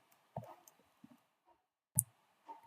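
Quiet computer mouse clicks sound on a desk, a few light taps spread out with one sharper click in the middle, with no voice.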